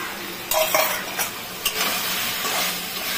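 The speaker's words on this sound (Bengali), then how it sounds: "পটলটা তো ভেজে রেখেছিলাম, এটাকে এখন এই মশলার মধ্যে দিয়ে একটু কষাবো।" Fried pointed gourd is stir-fried in a spice paste made with yogurt and very little oil, giving a close, steady sizzle. A few spoon scrapes and clacks cut through it in short bursts, with no talking.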